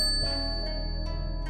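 A small bell in an SCP animation gives a few bright, light dings over a steady hum, each ring clear and short with a gentle ringing tail.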